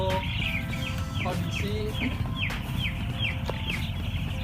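Broiler chickens in a closed-house coop in Demak cluck in a steady, overlapping chorus over a constant fan-like hum, with a person briefly speaking beneath the birds.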